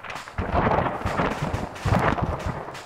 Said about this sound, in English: I'm hearing shots though